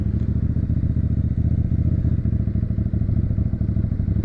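A new motorcycle being ridden on the road, its engine giving a steady, close, loud rumble with faint rattles and thuds throughout, and no talking.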